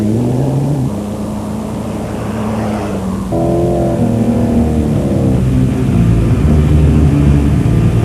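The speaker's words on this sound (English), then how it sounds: "a lot of fans on the side of the roads of the tracks to watch Stéphane Horard on his race Touareg" A Volkswagen Race Touareg rally car drives on a Dakar 2006 stage track, its engine droning loud and steady with rising and falling pitch as it revs, accompanied by continuous road and wind noise.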